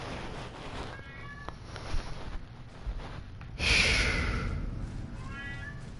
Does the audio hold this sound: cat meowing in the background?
yes